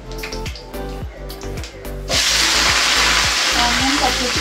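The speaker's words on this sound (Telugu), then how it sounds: "ఇప్పుడైతే ఆయిల్ వేస్తున్నాను. తగినంత ఆయిల్ వేసుకోవాలి. జీలకర్ర ఆవాలు వేస్తున్నాను." Cumin and mustard seeds hit hot oil and burst into a loud, steady sizzle about halfway through, after earlier clatter and low kitchen hum; the frying hiss then carries on evenly to the end with small pops.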